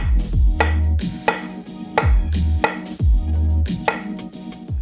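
A knife slices through fresh mushrooms on a cutting board in a steady rhythm of crisp, close cuts, about eight or nine in quick succession, with no talking.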